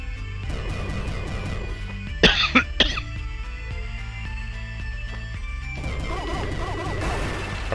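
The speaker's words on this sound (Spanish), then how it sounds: "Perdonad, o sea, por la tos y eso." A man coughing twice in quick succession, loud and close, heard over game music with no talk.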